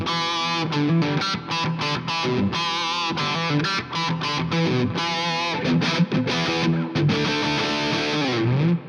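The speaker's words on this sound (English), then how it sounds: "So with the Joyo Uzi, this is the sound of the bridge only." An electric guitar on its bridge pickup plays through a Joyo Uzi distortion pedal, giving a thick, saturated, buzzing tone as a run of chords and riffs is strummed steadily and loudly without any talk.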